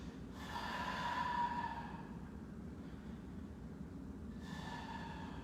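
Deep, steady breathing during a power yoga session, two long breath cycles, close and clear with no talking.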